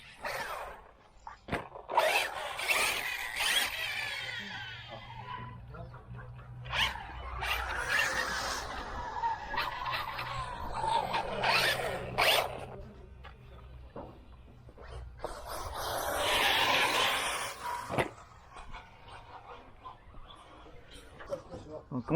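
Electric KKPIT K1-LBe v2 RC buggy lapping an outdoor track, a high whining motor that rises and fades as it passes near and far, with people talking over it.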